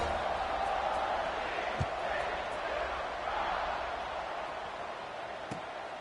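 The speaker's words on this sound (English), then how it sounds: "this crowd is buzzing after that last score" A stadium crowd roars in a steady, dense wash of noise during NCAA 26 college football gameplay, with a couple of faint thuds breaking through the continuous buzz.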